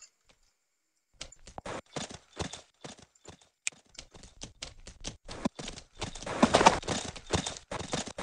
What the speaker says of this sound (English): There's a nice horse.